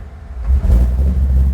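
A car engine fitted with an Edelbrock VRS 4150 carburetor gives a short rev, a deep, loud rumble swelling after a quiet idle and holding for about a second.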